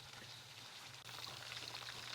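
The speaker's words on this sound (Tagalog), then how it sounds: "Nasa second batch na ako ng pagprito." Chicken frying in hot oil, a second batch cooking in a home kitchen: a faint, steady, continuous crackling sizzle with a low background hum and no voices.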